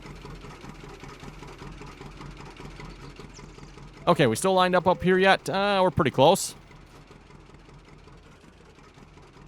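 A tractor engine in Farming Simulator 19 idles steadily at a low, even drone throughout, while someone talks briefly in the middle.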